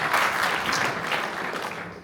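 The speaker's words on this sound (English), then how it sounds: "Give yourself a round of applause" A conference audience bursts into applause, a dense wash of clapping that stays steady for about two seconds before starting to fade.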